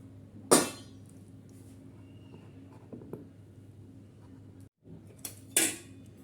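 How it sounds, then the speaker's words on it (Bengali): Rice pudding being transferred from a pot into a bowl: two sharp metallic clinks of a utensil striking the vessels, separated by quieter scraping and soft handling noises close by. "এখানে একটা বাটি নিয়ে নিয়েছি আর এই বাটিতে সম্পূর্ণ পায়েসটা আমি এখানে দিয়ে দিচ্ছি"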